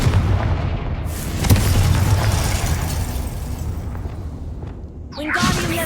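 A booming blast from the Confringo blasting spell in Hogwarts Legacy, loud and rumbling and trailing off, with further bursts and crackles close by and no talking.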